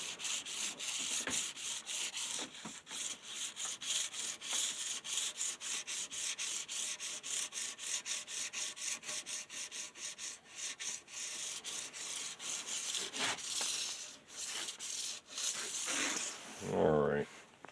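Curved Tri Tailtuner rubbing along guitar fret ends to polish them, a rapid run of short scratchy strokes in a steady back-and-forth rhythm, close and fairly quiet, with a louder scrape near the end.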